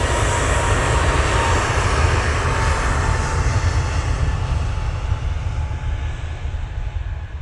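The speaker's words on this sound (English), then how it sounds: "And there goes that 321neo." Airbus A321neo airliner passing at Manchester Airport, a loud continuous jet engine roar that holds steady and begins to fade slightly toward the end, with no voices.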